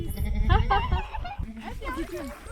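A goat bleats several times, near and fairly loud, while being milked on a Gobi trip, with people talking over and between the wavering cries.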